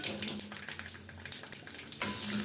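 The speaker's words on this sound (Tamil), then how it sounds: "இப்போ பூண்டும் நல்லா எண்ணெயில் வதக்கியாச்சு" Peeled garlic cloves fry in oil for Andhra-style gongura thokku, a dense crackling sizzle that stays steady and close, briefly swelling louder near the end, with no voices.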